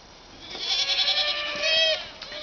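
Goats on a small farm bleat in a few loud, wavering calls close by, overlapping one another in quick succession.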